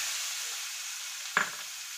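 Onions frying in desi ghee with whole spices for fried rice, giving a soft continuous sizzle with one brief clink of a spoon partway through, close and quiet, with no talk.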